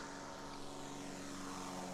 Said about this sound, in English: Oh, that aeroplane was nice and loud there.